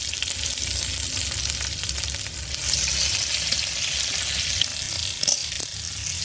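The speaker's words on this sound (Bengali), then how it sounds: "পেঁয়াজ ভালো মতো ভাজা হয়ে গেছে" Sliced onions and bay leaf frying in hot oil in a pan, a continuous loud sizzle with crackle and occasional stirring scrapes, nobody speaking.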